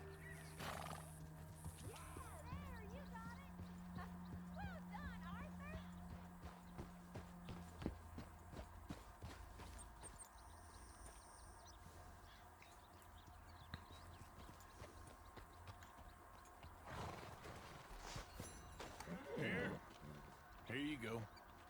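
Horse neighing and hooves clip-clopping in the video game Red Dead Redemption 2, set in a town, with the steady footfalls and whinnies mixed under ongoing game sounds and intermittent voices.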